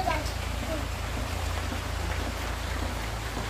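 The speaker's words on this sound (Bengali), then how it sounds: "যে বৃষ্টি শুরু হয়েছে" Steady rain falls in a village home setting, a dense even hiss of drops close by without a break, with a low background hum underneath.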